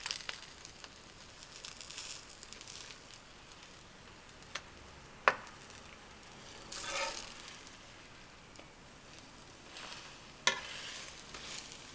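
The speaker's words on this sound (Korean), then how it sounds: "기름 코팅한 팬에 지단을 붙이는데 도톰한 달걀이 좋아서 두세 번 말아줬다" A thick egg sheet fries in an oil-coated pan for gimbap, giving a steady soft sizzle with a few sharp clicks and taps from utensils against the pan.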